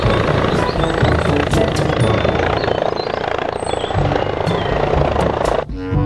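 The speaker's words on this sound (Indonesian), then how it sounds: "Yang ini ada helikopter." A toy helicopter makes a loud buzzing whir, a continuous mechanical drone with a rattling edge, close by, that cuts off abruptly near the end; a voice is heard faintly under it.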